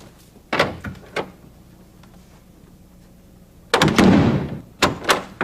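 Door closing as someone walks out, with a few soft knocks and thuds early on, then a heavier thump and rattle, followed by more short bumps in a quiet room.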